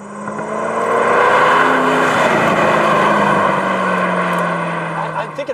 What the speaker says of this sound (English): Oh my God. That's half throttle.